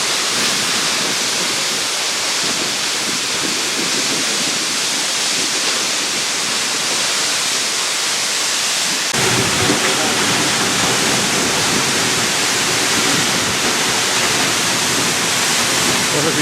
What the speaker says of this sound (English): according to the amount of water literally coming over at each point on that fall